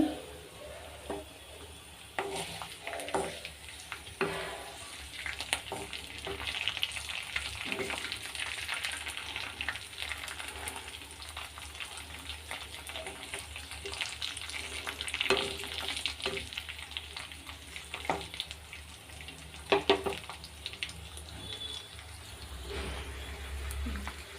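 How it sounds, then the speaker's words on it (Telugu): Ingredients for ajwain rice frying together in a hot pan, a continuous soft sizzle broken by scraping stir strokes and small clinks of the utensil, fairly close and moderately quiet, with no talking. "ఇప్పుడు ఒకేసారి ఫ్రై అయిపోతాయి ఇలా ఫ్రై అవుతాయి అన్నమాట అన్నీ"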